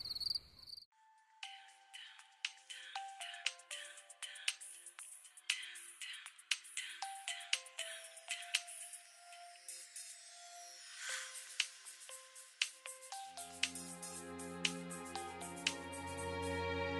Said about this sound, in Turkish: Telefonni ko'tarmaysiz, Samad aka?